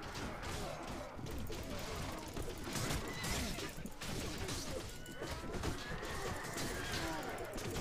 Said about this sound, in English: That is a lot of horses.